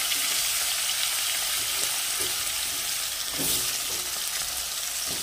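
Potatoes fry in hot oil with a loud, continuous sizzle close by, a dense hiss that swells slightly midway and carries steady spattering.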